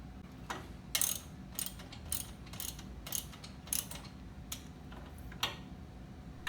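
A nut is fastened onto the bolt of a generator wheel-kit handle with a ratchet, giving quick bursts of bright ratcheting clicks in an irregular rhythm, close up with quiet gaps between strokes.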